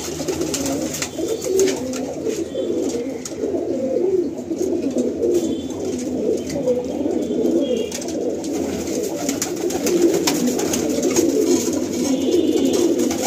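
Pigeons coo steadily in a loft housing single male flying pigeons, a dense layered chorus of soft throaty calls continuing throughout at moderate volume with no talk.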